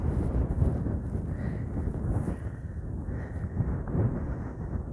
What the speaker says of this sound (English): oh man, that wind is brutal